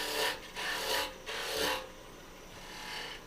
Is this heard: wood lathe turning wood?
yes